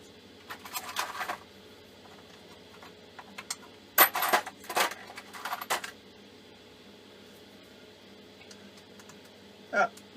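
Metal Allen keys are tried on motor screws, giving scattered small metallic clinks, rattles and taps in short bursts separated by quiet shed hum, close and light.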